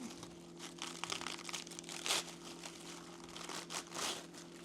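Napa cabbage leaves being pulled apart by hand, giving soft crinkling and crisp tearing with a sharper snap near the middle, quiet and close with no talking.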